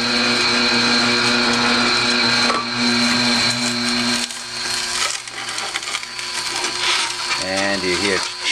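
An Omega NC800 HDR fifth-generation slow juicer churns and grinds fennel, giving a steady loud motor drone with crunchy grinding throughout. Near the end a short rhythmic burst of speech-like sound breaks in.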